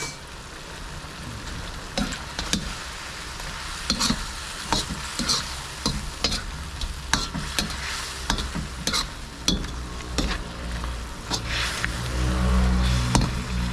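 Chicken adobo, yellow-skinned chicken in soy-vinegar sauce with a little sugar, stirring and sizzling in a pan, with steady frying hiss and repeated scraping utensil strokes close by.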